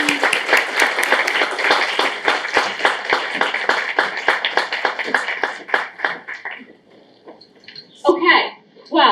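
A small audience claps for panelists walking onto a stage at a jewelry week event, with steady, moderately loud clapping that thins out and stops after about six seconds, followed by a brief voice.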